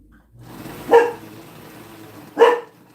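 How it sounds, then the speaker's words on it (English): A female dog barks twice, sharp and fairly close, roughly a second and a half apart, with a low rumbling growl between the barks. "She'll growl and bark until he pulls out of the driveway"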